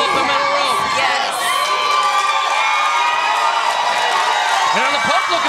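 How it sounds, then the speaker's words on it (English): A dense, loud wrestling arena crowd at an NWA show cheers and whoops continuously, with children's shouts mixed into the steady roar. "Listen to the crowd behind the pump tonight"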